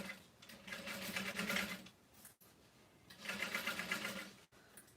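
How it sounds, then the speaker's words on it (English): Sewing machine stitching vinyl tote accent panels over foam, two runs of rapid close mechanical whirring and needle thumping separated by short pauses. "as I'm sewing down, I'm going to be back stitching over all those accent panels"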